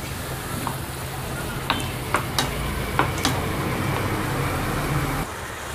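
Two onions fry in a pan for a pasta sauce, giving a steady, close sizzle with a few sharp clicks and scrapes as a utensil stirs them.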